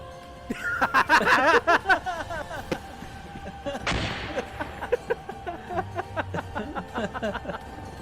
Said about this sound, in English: I wonder what happens if you throw a grenade